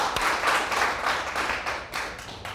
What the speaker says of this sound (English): Yeah, clap your hands.